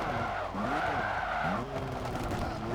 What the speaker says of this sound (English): stamp on the brakes, skid it